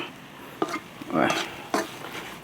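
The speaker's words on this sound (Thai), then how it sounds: "นี่ครับผัดกับน้ำพริกแห้งๆแบบนี้ครับไฟอ่อนครับ" Fish stir-fried with dry chili paste over low heat, with a few close scraping strokes of a utensil in the pan, spaced apart, and a faint sizzle underneath.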